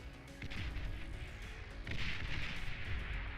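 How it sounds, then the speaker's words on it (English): Artillery shelling in the real-time strategy game Beyond All Reason, a continuous rumbling barrage of booms and impacts at moderate distance, with no voices over it. "The artillery coming in."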